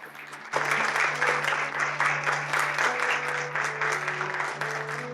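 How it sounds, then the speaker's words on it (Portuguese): A theatre audience breaks into warm, sustained applause for a character's entrance during a stage show. The clapping starts abruptly and carries on evenly and loudly, with faint tones held underneath. "recebam calorosamente e com aplausos efusivos a mamãe do ano 2000, Majô Gonçalo!"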